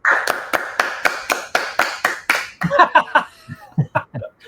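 A small group claps in a quick, loud run of sharp individual claps that thins out into scattered, uneven slaps, with a voice and laughter mixed in near the end.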